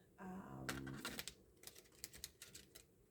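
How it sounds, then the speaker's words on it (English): A deck of tarot cards is shuffled close by, giving a short flurry of papery riffling followed by a run of light taps and clicks, with a brief voice at the start. "let's give them another shuffle"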